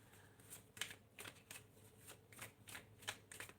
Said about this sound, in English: I'm shuffling your cards.